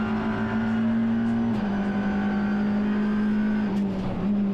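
Alfa Romeo TCR race car at Winton circuit, engine droning at a steady high pitch close by, dipping slightly as it exits a turn and rises again, with other race cars audible underneath.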